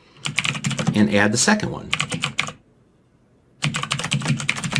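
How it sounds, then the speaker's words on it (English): Fingers tapping code on a computer keyboard, quick clustered keystrokes that mix with someone talking, then a short pause and another close, steady burst of typing. "I'll just use a comma on my keyboard"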